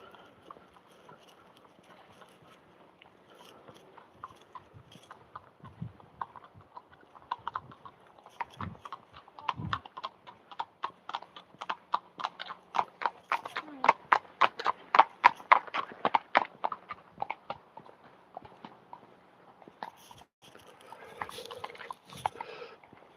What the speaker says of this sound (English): Two lovely horses walking past there.